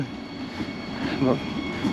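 A train passes on a line near a riverside path by a large bridge in Germany, a steady rumbling wash with faint wheel squeal rising toward the end, heard alone without talk.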